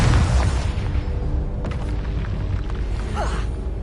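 Confringo blasting spell detonates in Hogwarts Legacy, a loud deep boom at the start followed by a rumbling, crackling explosion tail that stays heavy throughout.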